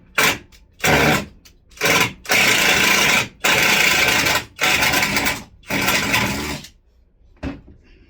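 Screws are backed out of a workbench vise with a Phillips screwdriver, producing a series of loud, close whirring bursts of varying length separated by short pauses.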